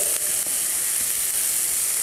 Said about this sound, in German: Diese Bratgeräusche.